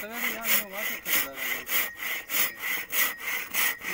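Hand saw cutting through wood, about eight regular rhythmic back-and-forth rasping strokes, close and fairly loud, with a faint voice briefly audible at the start.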